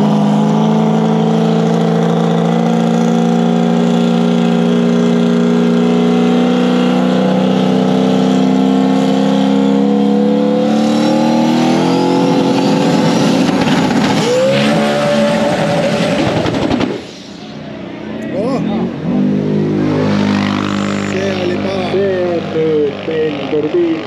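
Drag racing car on an EDRA Nationals strip, its engine roaring loudly as it accelerates through a run, the pitch climbing steadily before cutting abruptly, followed by rougher engine noise with people talking over it.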